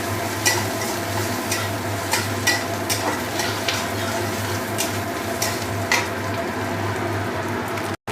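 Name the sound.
onions frying in oil until reddish brown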